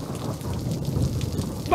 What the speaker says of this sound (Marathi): हा एकाएकी पाऊस कुठून आला आणि ते हे उन्हाळ्याच्या दिवसात?